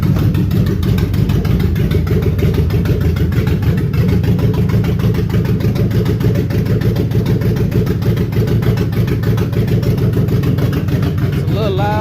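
A car engine idles on its own, loud and steady with a continuous low rumble and no change in revs, heard close up and alone.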